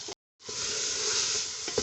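Potatoes and minced meat fry for dhaba-style aloo qeema, a brief sizzle that cuts out for a moment and then returns as a loud, steady hiss.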